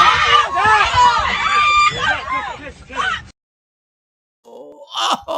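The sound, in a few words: people screaming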